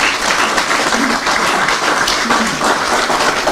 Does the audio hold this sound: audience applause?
yes